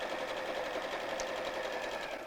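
A domestic sewing machine stitches fabric at a long stitch length, whirring steadily and evenly up close for a couple of seconds, with no talking.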